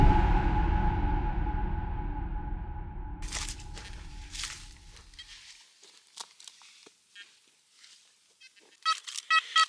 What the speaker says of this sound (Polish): Teraz potężniejszy sygnał, coś większego